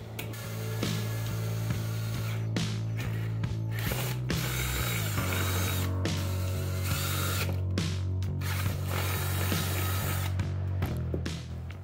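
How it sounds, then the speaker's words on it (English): A power drill whines and chatters at close range while boring holes for a ham radio station's grounding and bonding wire, with the pitch shifting as the bit bites and brief clicks between bursts. "Now that we got the holes drilled"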